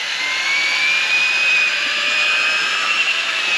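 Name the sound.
power drill mixing self-leveling concrete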